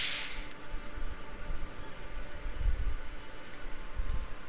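Rain falls steadily in the video game Elden Ring, a constant soft patter with scattered ticking drops and occasional low thuds, heard alone at moderate level.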